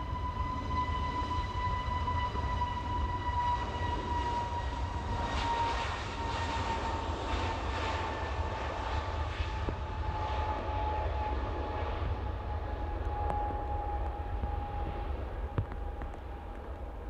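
Steady cabin drone of an Airbus A321neo in cruise on an Ural Airlines flight from Moscow to Istanbul, a continuous broadband engine and airflow roar with a faint high hum, unchanging and close throughout.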